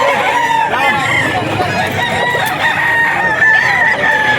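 Sweater Gilmore gamefowl rooster at a rainy pet market in Bocaue, crowing loudly and close, with clucking and other fowl in a busy, noisy background.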